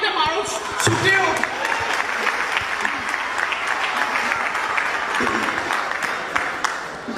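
Applause from an audience at a live comedy mimicry show, a dense, steady clapping that fills the whole stretch with a few sharper claps standing out.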